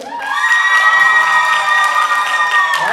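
A school audience at a high school comedy hypnosis show cheers loudly for the worst dancer, a steady blend of shouts, whoops and shrill voices that holds for a few seconds.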